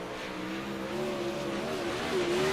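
Sim super late model race cars on warm-up laps in a dirt racing video game, engines droning and revving steadily at a distance, rising slightly in pitch toward the end.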